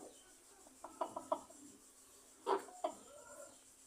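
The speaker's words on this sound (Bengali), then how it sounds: "এই যে আমার এখানে দেশি মুরগি আছে।" Native desi chickens on a small farm give a few short, soft clucks in two brief clusters, with quiet pauses between them and no voices.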